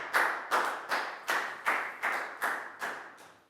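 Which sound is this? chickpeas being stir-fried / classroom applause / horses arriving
classroom applause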